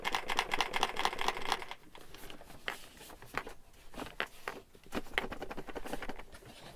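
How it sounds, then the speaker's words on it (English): Something loose rattles inside a Star Wars Kessel Run Millennium Falcon Force Link 2 toy near the speaker area, like a small marble rolling, in quick close bursts of clicking patter with brief gaps. "what in the world is this rattling in here?"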